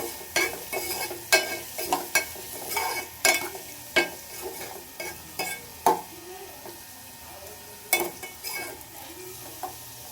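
Potatoes with turmeric and salt fry in a pan for Karnataka-style palya while a spoon scrapes and stirs in repeated close, sharp strokes over a faint steady sizzle.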